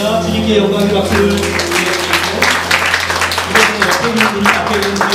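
A church congregation applauding during a Palm Sunday service, dense clapping that sits over sustained organ or keyboard chords, fairly loud and near.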